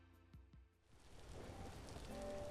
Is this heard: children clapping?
no